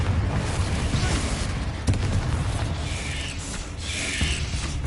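Fire-blast spell cast in Hogwarts Legacy, heard as a dense roaring rush with a couple of sharp impacts near two and four seconds, loud and continuous with no talk.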